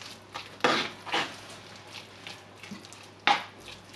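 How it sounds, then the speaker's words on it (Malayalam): A spoon stirs a yogurt, spice and salt marinade in a bowl for chicken. A few distinct clinks and scrapes against the bowl stand out over quiet, soft mixing sounds. "വീണ്ടും ഇതെല്ലാം കൂടെ നന്നായിട്ട് മിക്സ് ചെയ്ത് കൊടുക്കുക."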